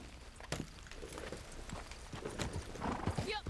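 Horse hooves clip-clop at a walk in Red Dead Redemption 2, with a whinny near the end, under a low voice and game ambience.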